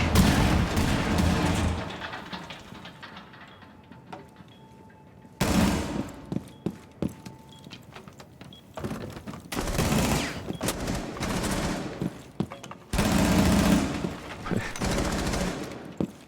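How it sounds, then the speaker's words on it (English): Rapid automatic gunfire from a video game, a bronze-ranked player pre-firing at a window over and over, in loud repeated bursts broken by short pauses. "He literally just keeps pre-firing the window over and over again."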